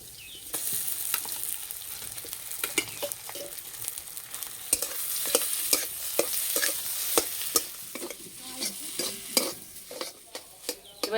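Boiled potatoes sizzling in hot oil with fried onion and garlic in a pan, a steady frying hiss broken by frequent sharp scraping stirs of a spatula, close and loud with no talking.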